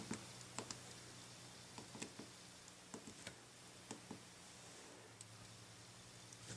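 Soft, irregular key clicks from quiet typing on an Amazon Kindle 3 e-reader keyboard, close by and faint, with uneven pauses between presses over a low hum.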